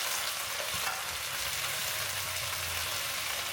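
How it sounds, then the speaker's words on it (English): Onion and meat sauté in a hot pan with a steady, dense sizzle and faint stirring scrapes, close and continuous with no talking. "I'll continue sauteing the meat until the fat renders and it turns brown."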